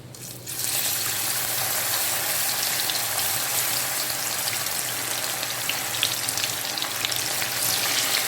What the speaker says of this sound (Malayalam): ഇത് നമുക്ക് നല്ല ചൂടായ എണ്ണയിലിട്ട് വറുത്തെടുക്കാം